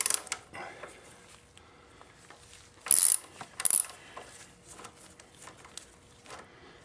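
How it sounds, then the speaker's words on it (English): A ratchet loosens the front wheel pinch bolts on a 2015 BMW F800GS motorcycle: two short, sharp clicking bursts over a quiet workshop background, with faint scattered mechanical ticks around them. "let's loosen up those pinch bolts on this side"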